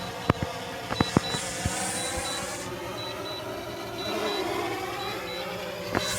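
A drone's faint, steady high-pitched low-battery alarm beeps in short pulses over a continuous whirring hum, with a few sharp clicks and knocks nearby.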